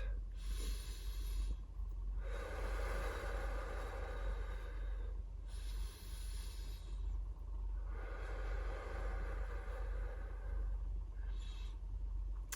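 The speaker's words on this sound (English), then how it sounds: "Perhaps we can just begin with a nice big breath." Deep breaths taken slowly in a calm morning setting, several long rushing inhales and exhales alternating with short pauses, close and steady over a low background hum.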